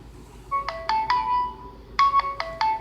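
A phone ringtone plays close by, a bright melodic sequence of chiming notes in two quick bursts over a faint low hum.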